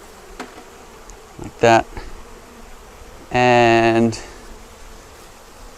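Honey bees buzz around an open Langstroth hive during a swap to a Flow Hive, with loud close buzzing bursts as individual bees fly past, one short and one sustained, over a low background hum with brief speech.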